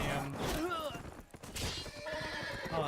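A horse in the Game of Thrones Telltale video game gives a loud, wavering whinny, with hoof clatter and battle noise around it.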